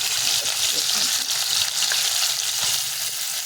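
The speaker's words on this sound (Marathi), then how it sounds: "आता थोडासा कांदा टाकून घेऊ" Onion hits hot oil already seasoned with cumin and mustard seeds, giving a steady, loud, close sizzle and crackle that runs without a break from start to finish.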